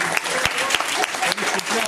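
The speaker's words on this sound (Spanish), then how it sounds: "Un aplauso para Teresita Gil." A short, close burst of audience clapping welcomes Teresita Gil, an 80-year-old new member of a singing group. The applause is dense and lively, and voices can be heard within it.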